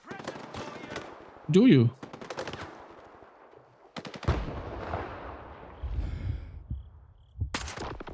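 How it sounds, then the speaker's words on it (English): Video game gunfire and grenade explosions crack in scattered bursts with some heavier booms, while a person talks briefly over the action. "Wow, these guys are throwing grenades. Who are you shooting, though? Are you shooting me?"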